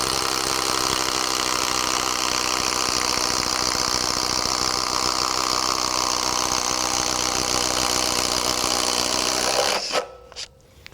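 A Makita XGT 40V max brushless 4-speed impact driver, model GDT01, drives a 1.5 inch spade bit through a 4x4, giving a loud, continuous hammering whine that runs for about ten seconds and then abruptly stops.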